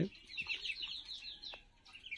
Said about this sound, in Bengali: আমি 2 জোড়া কবুতর নিয়েছিলাম।